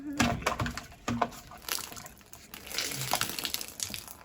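Water gushing out of a drain after a blockage is cleared, a splashing, irregular rush with a few sharp knocks, moderately close and loud, continuing steadily.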